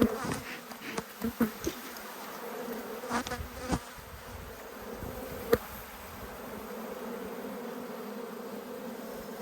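Honeybees hum in a steady, dense drone around an open hive during a late-winter inspection in a cool breeze, with a few soft knocks and clicks from handling the frames nearby.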